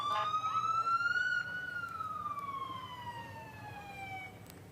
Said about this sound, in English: it's always comforting to hear the police vehicles, because now you know they're on the way.